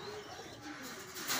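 Pigeons and their squabs cooing softly inside a loft during hot weather, low steady murmuring coos with faint background noise.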